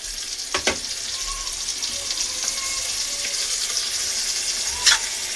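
Onions with ground ginger-garlic and cumin paste, turmeric, salt, chili powder, cardamom and cinnamon frying in a pan give a steady bright sizzle, broken by a few sharp clinks of stirring and a faint splash near the end.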